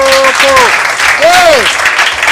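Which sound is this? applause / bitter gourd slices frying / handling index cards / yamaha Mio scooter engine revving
applause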